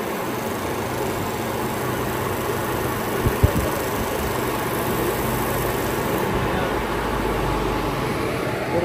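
A Jetu electric motor for a rice mill spins smoothly at about 1470 revolutions, giving a continuous, even mechanical hum and whir, with a couple of brief knocks partway through.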